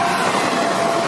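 A moving train sounds close and loud in a continuous rolling rumble of wheels on track with clickety-clack texture, no voices.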